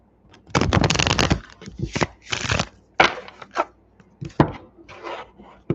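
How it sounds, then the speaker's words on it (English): A tarot card deck is cut and shuffled by hand in a series of papery riffles and slaps, close and moderately loud, some bursts longer than others, with occasional speech mixed in. "Keep cutting all the way till I get to the bottom of this deck."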